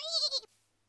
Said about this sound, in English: Fight this stupid little baby sheep.